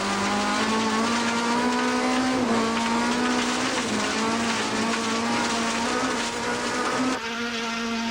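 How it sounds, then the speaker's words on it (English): From inside a Toyota Corolla rally car on a stage of the 2002 Tour Natal, the engine drones loud and constant with rising and falling revs, joined by tyre noise on the road, with no speech. "We're in car now with Etienne Lourens and Andre Vermeulen in"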